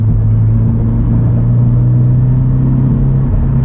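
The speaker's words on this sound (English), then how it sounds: "I bought this exhaust system from Graveyard Performance." Deep, throaty exhaust of a 2022 Subaru BRZ with an HKS Spec-L exhaust rumbling at a steady idle, loud and close, with a low droning hum and no voices.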